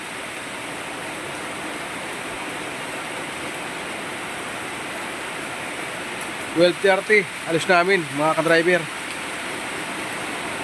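Heavy rain falls in a steady, dense hiss throughout, while someone speaks briefly in the middle over the constant downpour.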